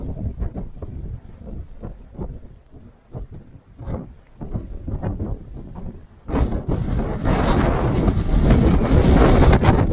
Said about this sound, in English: This wind picks up little stones and it hurts, especially when they hit face.